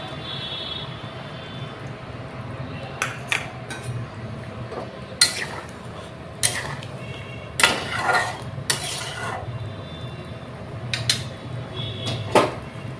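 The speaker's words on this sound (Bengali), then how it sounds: "ঢাকা দিয়ে দিলাম।" A lid is set on a cooking pot of egg and green pea curry, with several sharp metallic clinks and clanks of utensils in a quiet kitchen.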